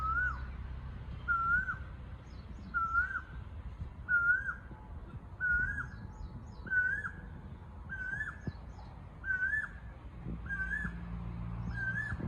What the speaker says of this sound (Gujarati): મસ્ત કોયલનો અવાજ આવે.